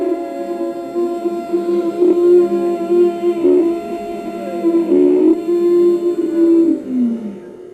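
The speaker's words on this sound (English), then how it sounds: "We'll take a deep breath by squeezing the throat." Long, drawn-out raspy Ujjayi pranayama breaths through a tightened throat, producing a hoarse, hollow hiss with a tonal edge, close and fairly loud, in a few sustained waves.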